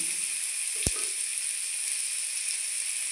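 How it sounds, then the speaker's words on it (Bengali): Potatoes fry in a pan with a steady, even sizzling hiss. A single soft knock sounds near the start, with no voices. "এখন আলু ভেজে নেব"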